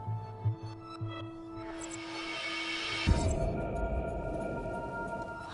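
A low rumble swells up in The Complex, a deep droning roar that builds and thickens halfway through, sustained under steady background hum and tones.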